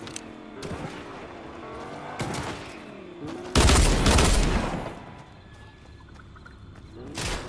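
Gunfire in the Fortnite video game comes in several separate bursts, with one loud, dense volley in the middle that tails off. A few quieter shots follow it.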